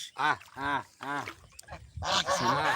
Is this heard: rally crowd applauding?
no